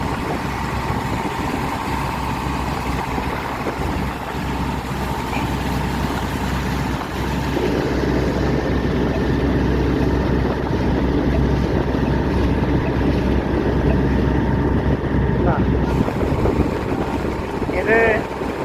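A boat engine runs at sea near Bangaram and Thinnakara islands, giving a steady, continuous drone mixed with wind buffeting and water rushing, sustained throughout at close range.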